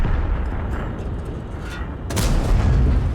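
Heavy booming tank cannon blasts in World of Tanks over a constant low rumble, with a louder, sharper shot near the end.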